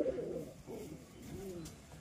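A pigeon with a twisted neck condition coos softly nearby in a few low, rolling calls against a faint background, without any talking.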